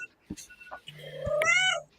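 A cat meows once, a drawn-out wavering mew close by, preceded by a few soft clicks and bumps in an otherwise quiet indoor space.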